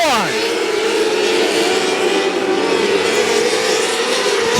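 Race cars roar around the oval at K C Raceway, a steady loud engine drone with whining passes that Doppler at the start and end, as a crowd voice talks faintly underneath.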